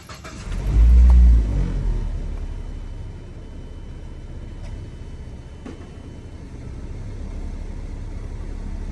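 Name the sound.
Mazda 3 car engine starting and running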